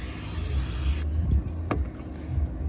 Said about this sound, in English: Of course, we need to give that a good spray as well.